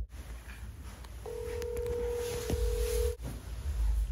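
A phone's video call ringing tone sounds at a home birthday celebration, a steady electronic tone held for about two seconds over faint room noise and rustling.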